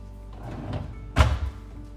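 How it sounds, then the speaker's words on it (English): A kitchen cabinet door in a ranch home is opened onto pull-out drawers, a soft creak and rustle followed by a single firm thunk with a brief rebound, close and quiet, with no voices. "we can open up the door and you'll see the pull-out drawers that are throughout the cabinets"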